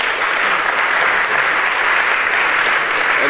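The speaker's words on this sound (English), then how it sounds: "So how about a round of applause for our panelists?" Audience applause for panelists at a cybersecurity event, a loud, dense and sustained ovation of many clapping hands, steady in level from start to finish with no voices.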